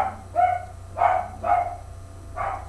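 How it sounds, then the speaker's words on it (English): A dog barks at passing vehicles, four short, loud, close barks spaced unevenly over a couple of seconds with no other voices. "Seems like he's barking at everything that drives up"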